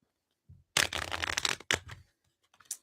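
A deck of tarot cards is shuffled up close in a quiet room, with a long riffling burst followed by a shorter one and a few light taps.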